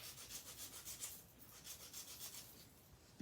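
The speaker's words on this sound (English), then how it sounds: "So you start filing from the side." A nail file rasps along the side of an acrylic coffin-shaped nail in quick, even back-and-forth strokes, close and faint, with no talking.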